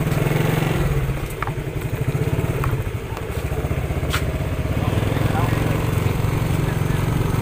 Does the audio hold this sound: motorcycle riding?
yes